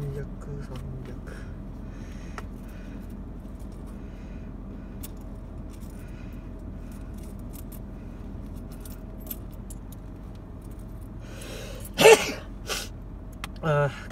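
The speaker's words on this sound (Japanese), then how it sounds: "ああ、くしゃみが。" One abrupt sneeze inside a car on a drive around the Miura Peninsula, standing out from a long stretch of low road hum, followed by faint rustling.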